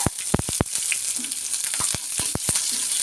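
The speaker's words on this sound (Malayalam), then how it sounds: "എണ്ണ ചൂടായി അതിലേക്ക് ആവശ്യത്തിനുള്ള കടുക് ഇട്ട് കൊടുക്കുന്നു കടുക് പൊട്ടിത്തുടങ്ങി" Mustard seeds crackle and pop in hot oil for tempering an ash gourd curry, sharp close snaps coming irregularly over a continuous bright sizzle.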